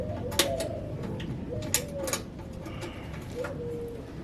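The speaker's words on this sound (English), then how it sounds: "Sorry for the doves too." Doves coo outdoors in repeated soft rolling calls, a few spaced phrases near a home amid light background noise and small clicks.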